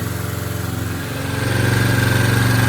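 A Honda CB350 twin-cylinder motorcycle engine idles close by, a steady throbbing pulse that grows slightly louder and smoother as it warms, with no voices.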